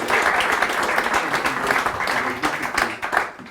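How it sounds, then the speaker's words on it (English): A conference audience at a pre-COP30 livelihoods gathering in Paris gives a brief, lively round of applause, close and fairly loud, with dense overlapping claps throughout. "I think Isabelle deserves a round of applause also"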